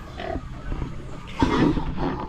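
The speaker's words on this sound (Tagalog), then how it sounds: "Baboy namin ni Mahal, buntis na" A pregnant farm pig grunts up close in a pen, giving a short series of rough, throaty grunts and snorts in irregular bursts, with the loudest cluster in the second half; no one speaks.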